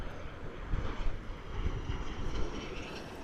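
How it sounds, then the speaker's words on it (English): A small private plane taking off at LAX, a faint, distant engine drone with low rumbling and gusty wind noise, no talking. "As a little private plane takes off."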